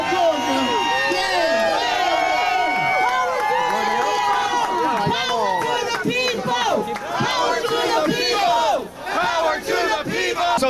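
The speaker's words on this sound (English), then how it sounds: "Let's give them applause, man." A large crowd at a Living Wage Coalition protest cheers, whoops and shouts in a loud, dense, continuous roar of overlapping voices.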